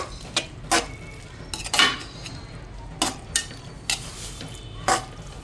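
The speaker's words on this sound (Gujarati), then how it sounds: "મિત્રો સોસ એડ કર્યા પછી આને સરસ મજાનું હલાવી દઈશું." A spoon stirs sauce through hakka noodle mixture in a pan, giving sharp metallic scrapes and clinks at irregular intervals over a faint background, close up with no talk.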